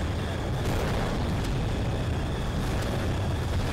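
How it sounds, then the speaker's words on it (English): Massive explosions drop from an enemy ship in the video game Global Defence Force, a continuous wall of heavy rumbling blasts and roar that stays loud and dense from start to finish. "So periodically the granny ship will drop massive explosions."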